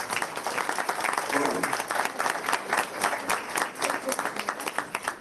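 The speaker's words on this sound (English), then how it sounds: "Big round of applause for Ahmed Hunt" Applause from the audience at a school district board of education meeting honoring a student award winner, steady clapping lasting several seconds with some crowd murmur mixed in.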